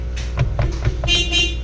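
The stock horn of a Toyota Hilux Champ pickup sounds in a short steady honk over a low idling engine rumble, fairly close.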